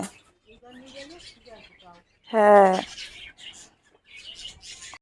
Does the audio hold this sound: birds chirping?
yes